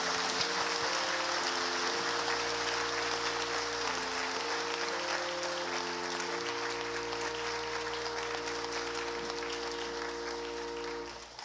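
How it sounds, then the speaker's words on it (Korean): A church congregation at Sunday worship claps together in sustained, dense applause lasting the whole stretch, with steady sustained tones beneath it. "담임 목사님께서 선물 전달하실 때 우리 박수로 축하해 주시기 바랍니다"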